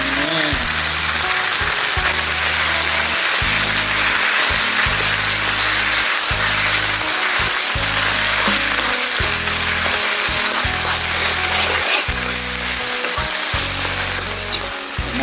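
Dough dumplings fry in a pan with shallots, giving a loud, steady sizzle and crackle throughout, while low thumping tones run beneath it.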